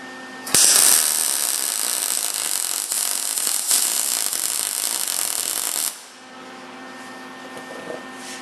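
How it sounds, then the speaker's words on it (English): Welding through zinc weld-through primer on copper sheet produces a loud, steady crackling buzz that starts abruptly, holds for about five seconds, then cuts off to a quieter hum, with no talking. "Now that's welding right through the primer."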